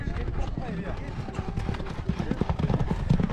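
Racehorses gallop past in a 2023 horse race in Kara-Balta, Panfilov district, with rapid, close hoofbeats drumming under a loud, continuous commentator's voice.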